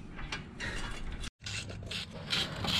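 A ratchet wrench clicks rapidly and steadily up close as it backs bolts out of an engine oil pan, with one brief pause partway through and no talking.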